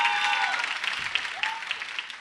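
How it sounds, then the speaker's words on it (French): A live television studio audience applauds, with brisk clapping heard under faint whistle-like tones, fading gradually over about two seconds. "Applaudissements pour booster tant soit peu nos amis du son."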